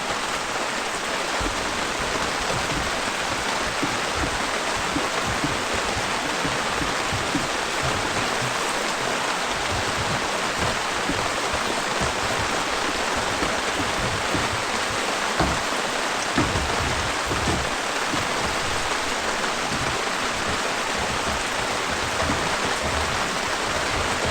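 Water gushes steadily back into the freshwater tank of a Class C Chateau Sprinter 24LV RV during winterization, a continuous dense rushing splash, close and loud and unchanging throughout.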